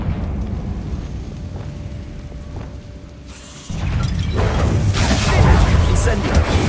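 The Confringo explosion spell in Hogwarts Legacy goes off as a loud burst partway through, followed by a heavy, rumbling blast that stays loud to the end. A voice calls out over the game sounds.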